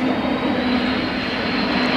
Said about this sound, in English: This is that plane that was circling around on 9/11